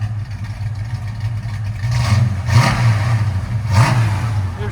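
A Ford Mustang Mach 1 V8 idles with a deep rumble, then revs up in two distinct throttle blips that swell and fall back, loud and close with no talking.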